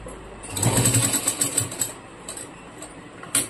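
A sewing machine stitches nightie cloth in quick whirring runs with brief pauses and a short burst near the end, close and clear with no talk.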